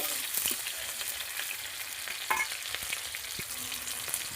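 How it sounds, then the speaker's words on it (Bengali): Chopped onion, green chili and five-spice fry in hot oil, a steady close sizzle broken by scraping stirs and a few louder clicks of the spatula, with no voices. "এখন 5 ফোড়ন দিয়ে দিলাম। কুচনো পেঁয়াজ, কাঁচা লঙ্কা,"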